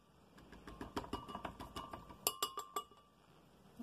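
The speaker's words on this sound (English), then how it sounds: "we're going to start by putting some softened ice cream into our blender" Softened ice cream being scooped into a blender jar, a run of clinking spoon-on-glass taps and knocks, close and fairly quiet, with a few sharper clinks near the end.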